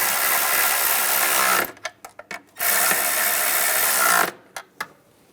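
A ratchet tightens nuts on the ignition coil bracket of a 2011–2018 RAM 1500 3.6L V6, giving two runs of rapid clicking, each followed by a few sharp separate clicks, close and clear with no talk.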